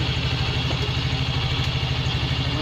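A Yamaha Mio i 125 scooter engine idles steadily at close range, a low, even putter with a faint rattle and no other sounds.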